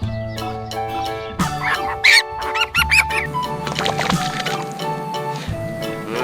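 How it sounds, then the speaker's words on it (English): A cartoon duck on a farm gives a few quick quacks over a bright musical backing, close and clear. "Quack! Quack!"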